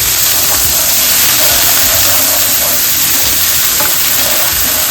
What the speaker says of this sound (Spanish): No hay que dorar la cebolla, siempre pocharla para el risotto. Así que la mezclamos para que no se nos queme.